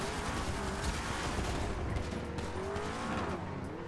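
Gunfire in the video game GTA RP crackles as rapid bursts through a dense, busy mix with car engine and tire noise, fairly loud and continuous.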